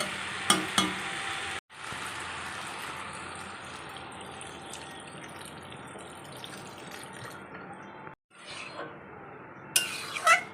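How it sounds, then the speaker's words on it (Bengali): Vegetables fry in oil and get stirred, a steady crackling sizzle that runs for several seconds with brief breaks and a few sharp knocks near the start and end. "সবজিগুলো একটু তেলের সাথে ভালো করে ভেজে নিই কষে নিই"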